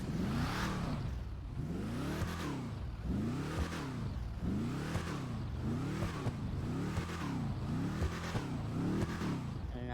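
Engine of a 2018 Ford Mustang GT Fastback in GTA 5 revs repeatedly in a steady rhythm of about six rising and falling sweeps, loud and close with no talk over it.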